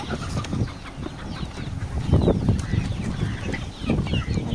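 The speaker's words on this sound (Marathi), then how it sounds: "तुम्ही पाहू शकता कोंबड्या कशा आवडीने खातात." Chickens cluck and chatter close by as they peck at hydroponic green fodder on a poultry farm, a busy, continuous flock sound with no talking.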